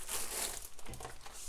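Protective film peels back from a diamond painting canvas with a steady, soft crinkling and crackling rustle that continues throughout.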